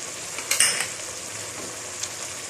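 Garlic hits mutton frying in a pot, giving a soft sizzle with a few brief scraping stirs of a spoon near the start, then a quieter steady crackle.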